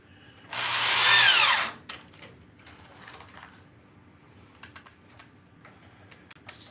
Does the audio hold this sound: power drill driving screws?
yes